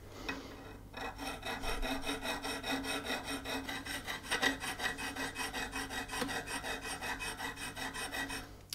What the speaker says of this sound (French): je vais attaquer tout doucement à la lime pour voir si j'arrive à enlever déjà un petit peu les rayures